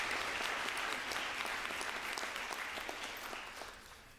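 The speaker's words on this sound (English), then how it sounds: "please give him a round of applause" Sustained, dense applause from an audience at a high school academic awards ceremony in Port Huron, greeting the superintendent; steady and full throughout, easing slightly toward the end, with no talking.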